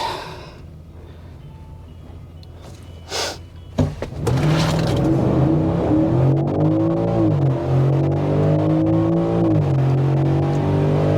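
A stock 2024 Ford F-150 4x4 with the 5.0 V8 launches at a drag strip, the engine climbing through rising revs with clear gear shifts, loud and close after a quieter idle and brief bursts of noise.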